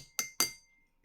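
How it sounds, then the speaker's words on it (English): An empty drinking glass is tapped twice about a fifth of a second apart, each a bright, close clink whose ring fades quickly into quiet. "You can make music with glasses."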